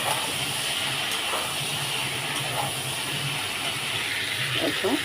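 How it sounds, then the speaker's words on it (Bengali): Cauliflower and potato pieces fry in oil with tomato about to go in, giving a loud, continuous close hiss of sizzling with faint clinks, no talking. "কপি আলুর সঙ্গে টমেটোটা ভালো করে ভেজে নেব"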